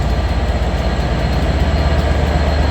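Transport for Wales special train at Stockport station, a loud, steady low rumble of engine and rolling wheels close by throughout, with no voices.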